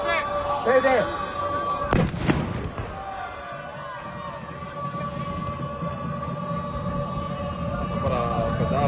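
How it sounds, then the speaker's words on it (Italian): Firecrackers set off by fans at a Promozione Sicilia amateur football match, a sharp loud bang near two seconds standing out over constant crowd noise and a steady horn-like drone, with commentary running throughout. "Petardi"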